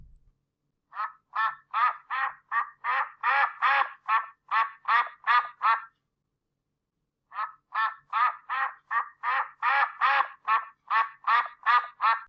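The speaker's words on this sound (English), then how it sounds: "Ọbọgwụ. Ọbọgwụ. Duck." A duck quacks in two long runs of loud, rapid, evenly spaced calls, separated by a pause of about a second and a half, heard alone and close up.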